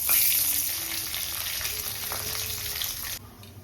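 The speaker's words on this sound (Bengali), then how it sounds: "এবার যাচ্ছে কালো সরষে ফোড়ন" Black mustard seeds tempering in hot oil with dried red chilli: a loud, dense close sizzle and crackle that holds steady then drops sharply near the end, no talk.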